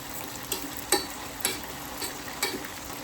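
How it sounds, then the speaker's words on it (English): Grubs deep frying on a hot plate, a low steady sizzle broken by a few sharp clicks and taps spaced about half a second apart, with no voices. "now I'm deep frying them"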